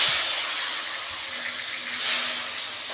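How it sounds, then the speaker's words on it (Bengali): Fish pieces frying in hot oil for a fish curry with ridge gourd and potato, giving a steady, close hissing sizzle that swells briefly near the end, with no talking. "মাছগুলো ভেজে নিচ্ছি"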